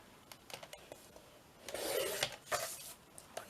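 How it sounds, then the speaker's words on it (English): A paper trimmer slices through paper for a collage, giving a soft scraping rub that swells for about half a second and then returns briefly, faint and close against a quiet room with a few small handling taps. "Got my trimmer. So let's just trim this down."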